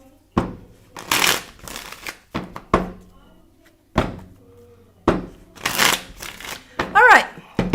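Spiral Tarot deck cards shuffled by hand, a string of sharp riffling bursts and soft thumps close by, with a person talking between them.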